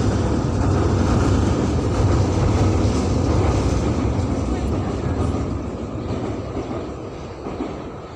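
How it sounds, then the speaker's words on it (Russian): A metro train in Novosibirsk rumbles past, loud and broad at first, then slowly fading over the last seconds. "Метро."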